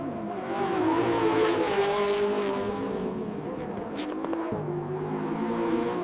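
A race car screams flat out through the fast Pouhon corner, its engine holding a high, steady, sustained drone close up with a slight rise in intensity partway through and faint tyre noise underneath.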